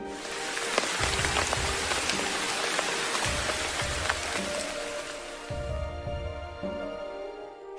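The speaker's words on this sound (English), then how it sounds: "One day there was a heavy rain." Heavy rain pouring steadily onto surfaces, a dense continuous hiss with scattered louder drop impacts, close and loud, easing slightly near the end.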